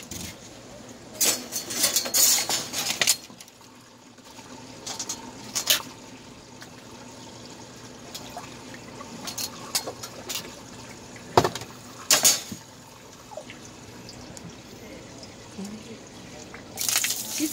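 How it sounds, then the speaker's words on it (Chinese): During a child's bath, running water gushes and splashes in intermittent bursts as it is poured and rinsed, with quiet gaps between pours and voices talking nearby. "然后就开始冲水"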